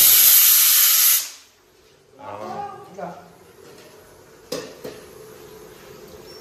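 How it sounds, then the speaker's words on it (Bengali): A pressure cooker cooking peas and potatoes in a home kitchen lets out a loud, steady hissing whistle that stops abruptly after about a second. Quieter kitchen clatter and faint voices follow. "এদিকে সিটি বাজছে কিসের? মটর আলু সেদ্ধ।"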